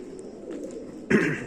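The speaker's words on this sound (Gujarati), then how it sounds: "અને કબૂતર ઘૂ ઘૂઘૂ કરી રહ્યા છે" Soft, low pigeon cooing rumbles throughout inside the 11th-century Adi Kadi stepwell at Uparkot Fort, Junagadh, swelling into a louder, fuller coo near the end.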